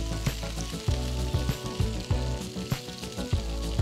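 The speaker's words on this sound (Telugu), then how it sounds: "ఉల్లిపాయ ముక్కలు, గ్రీన్ క్యాప్సికం ముక్కలు, రెడ్ క్యాప్సికం ముక్కలు వేసి 2 నిమిషాలు వేయించుకోవాలి" Chopped onion with green and red capsicum pieces fry in a pan, a steady hiss of oil broken by regular clinks and scrapes of a spatula stirring, close and fairly loud.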